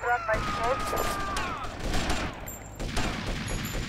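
Rapid gunfire bursts in GTA Vice City, loud and repeated, mixed with game effects while players talk in German.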